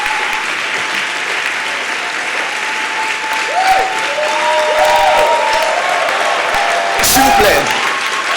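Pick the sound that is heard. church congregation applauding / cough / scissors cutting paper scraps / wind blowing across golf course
church congregation applauding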